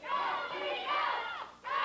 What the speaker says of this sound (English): Crowd still behind the team of Stephen Dunn and Flash Flanagan.